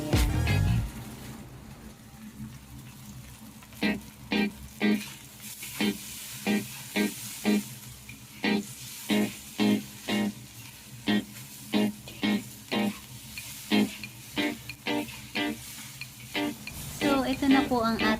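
Pork fried rice sizzling over high heat in a pan, with a steady fry hiss broken by repeated rhythmic scrapes and tosses of the spatula, close and moderately loud.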